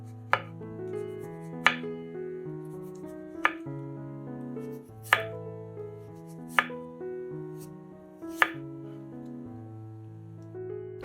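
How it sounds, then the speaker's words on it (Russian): A knife slicing washed radish into thin rounds on a board, with about six sharp, evenly spaced cuts roughly every second and a half, set against steady background music. "Редис моем и нарезаем тонкими кружочками"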